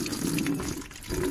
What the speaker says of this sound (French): une fois que le tuyau va sortir, la durite, ah, on voit déjà que l'eau est prête à sortir